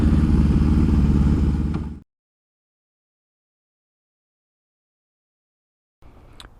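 A vintage barn-find Honda CB750 motorcycle engine running loudly nearby for about two seconds before it cuts off into silence, followed by faint rumble and a brief clatter at the end.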